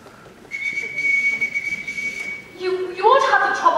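A shrill whistle signal is blown on stage during a high school production of The Sound of Music, one long sustained tone followed by a warbling, shifting blast, loud and close under faint background stage noise.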